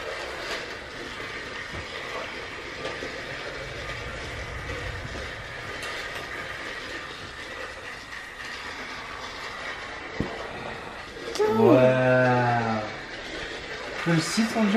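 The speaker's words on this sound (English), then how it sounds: "Daddy built you a train." Toy train running on its track at a child's second birthday, a faint mechanical rolling hum with a louder clattering, whirring stretch near the end while family members talk and react around it.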